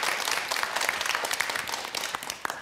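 Fairly faint, steady clapping from an audience of students and guests at a Gangwon school discussion event, sustained applause with scattered sharper claps.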